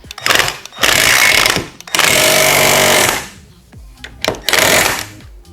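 A Milwaukee C12 PN-0 cordless 12V palm nailer drives a long nail flush in loud, close, rapid-fire hammering bursts. Three main bursts are separated by short pauses.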